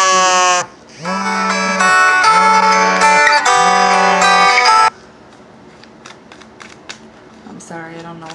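A phone rings with an incoming call, a loud electronic tone repeating in several bursts before cutting off, followed by quieter clicks and short tones as it is handled.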